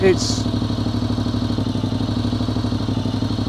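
Honda NC750X motorcycle with a Black Widow 300mm aftermarket exhaust idling, a steady, even engine burble with a regular pulsing throb, close and fairly loud, alone throughout.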